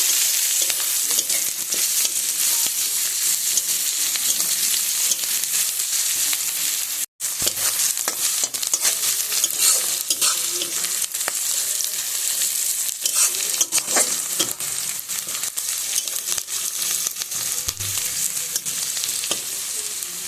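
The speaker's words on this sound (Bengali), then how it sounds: "লঙ্কা কুচি, একটু লাল লাল করে ভেজে নেব।" Chopped chillies frying in hot oil in a pan, a loud, dense, continuous sizzle that holds for the whole stretch apart from one brief dropout.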